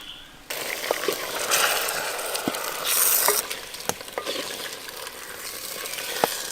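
Chicken being stirred with a paste of cashews, dried chilli and Kashmiri chilli powder in a clay pot, giving a steady sizzle broken by sharp scraping clicks of the spoon, close and fairly loud, with no talking.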